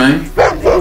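Pit bull dog giving two short barks in quick succession, close and loud, right after a voice.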